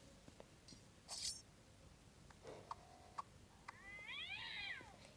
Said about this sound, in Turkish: Kedinin sesleri geliyor bazen.